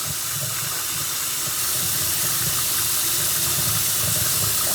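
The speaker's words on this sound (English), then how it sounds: "Now that we washed the knife off." A kitchen tap runs steadily in a strong, close, hissing stream while a knife is rinsed under it, loud and continuous with no voices.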